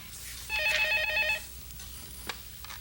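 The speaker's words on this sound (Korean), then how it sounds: "다급해진 부인은 전에도 몇 번 그랬던 것처럼 인적 드문 농장의 유일한 이웃인 경비원 김 씨에게 전화를 걸었습니다." A farmhouse telephone ringing, one bright electronic trill burst of about a second, clear and close, followed by quiet room tone with small handling clicks.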